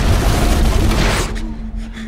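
A mailbox explodes in a film scene, a loud, dense broadband blast that roars continuously for over a second before thinning into a fading, rumbling tail with a faint steady hum beneath.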